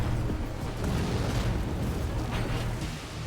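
Rapid bursts of bazooka explosions from a close-range mech fight in Armored Core VI, a dense rolling rumble of overlapping booms and pops that stays loud and continuous for several seconds.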